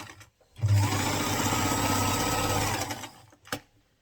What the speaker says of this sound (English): So you continue sewing, just sew it straight and neat